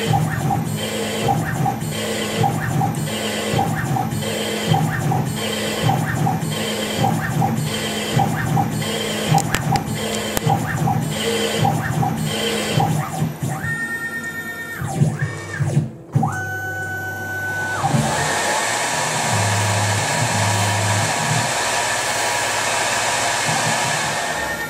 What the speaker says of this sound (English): Threading.